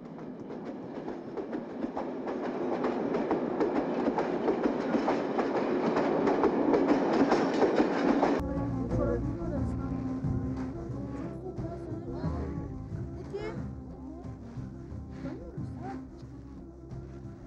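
A train rumbles past on rails, loud and broadband for the first half, then shifts to a lower rattling clatter of cars that continues steadily to the end.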